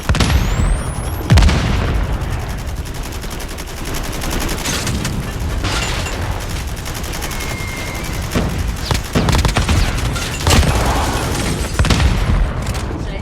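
A grenade explosion in COD Mobile, a heavy low boom early on, followed by continuous close gunfire, scattered shots and battle noise from a multiplayer hardpoint match.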